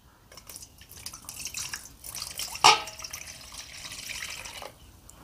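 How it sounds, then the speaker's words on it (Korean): Water trickles and splashes as it is poured into the reservoir of a heated mat. It sounds close and steady, with one sharper splash midway, and then the pouring tapers off. "매트에 들어가는 물은 정확하게 330ml 정도 들어가는 것 같습니다."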